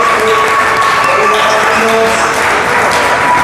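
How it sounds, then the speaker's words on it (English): Audience applause at a charity event for the marketing team, a dense steady wash of clapping filling the whole stretch with a faint murmur of voices mixed in. "Could you give her and that team a huge round of applause?"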